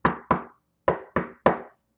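Five sharp knocks on a door in two quick pairs and a final single, close and loud, with clear silence between them and no voices.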